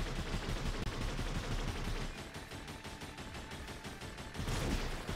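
Rapid, relentless gunfire in the roguelike shooter Revita, a dense stream of overlapping shots packed with tiny bullet-hit crackles, loud and continuous for the whole stretch with no voice over it.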